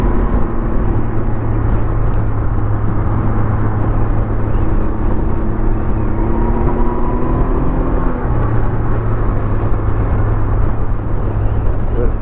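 A Can-Am Ryker three-wheel motorcycle on the road, its engine droning steadily and loudly for the whole stretch, with a low hum and constant wind rush and no break in the ride.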